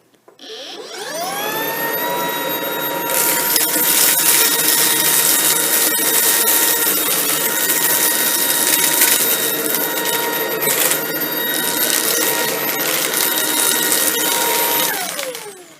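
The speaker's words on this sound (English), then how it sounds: "We're going to run the vacuum on low power mode and carpet mode" A Shark IONFlex cordless vacuum cleaner on low power carpet mode whines up to full speed, roars steadily with a high-pitched tone for about fifteen seconds on carpet, then spins down.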